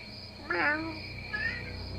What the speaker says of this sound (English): It's really distracting me, this cat